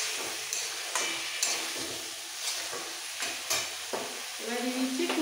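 Spicy sour potato curry (alu dom) stirred in a frying pan, a steady sizzle broken by repeated scraping strokes of the spoon, close and moderately loud, with no talking.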